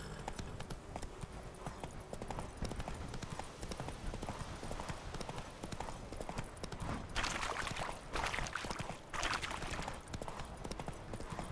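Roach the horse gallops in The Witcher 3, a steady rapid clip-clop of hooves running throughout with game ambience and splashy bursts later on.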